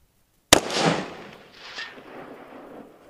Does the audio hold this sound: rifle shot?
yes